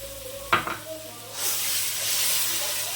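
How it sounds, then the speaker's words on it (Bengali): Mustard, poppy seed and ginger paste for sukto hitting a hot pan, a sharp clatter followed by a rising, steady sizzle and frying hiss that fills the rest of the moment, close and fairly loud. "ভালো করে মশলাটাকে কষে নেবো"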